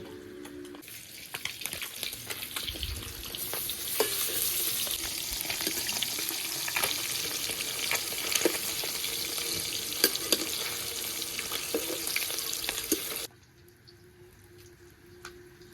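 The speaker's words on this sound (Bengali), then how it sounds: "ওদিকে মাছটা কিন্তু এখনো ভাজছি" A steady, crackling sizzle of American rohu fish frying in hot oil goes on for about thirteen seconds, then cuts off to a quiet background.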